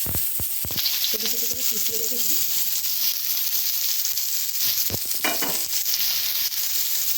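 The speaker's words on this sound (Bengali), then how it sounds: "তেলটা তো গরম হয়ে গেছে দিয়ে দেব পেঁয়াজ কুচানো পেঁয়াজ" Chopped onions fry in hot oil with a loud, steady hissing sizzle throughout, broken by a few sharp clunks from a pan or utensil near the start.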